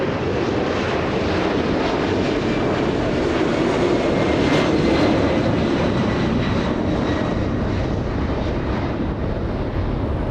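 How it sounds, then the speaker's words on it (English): A Northern Air Cargo freighter jet lifts off from a runway at Los Angeles International Airport, its engines roaring as a loud, steady, broad rumble that holds for about ten seconds with wind buffeting the microphone. "We have Northern Air Cargo right now lifting off, traveling at 175 knots."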